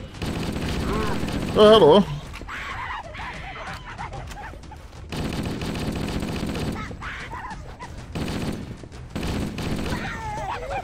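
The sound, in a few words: gunfire from marines' weapons in video game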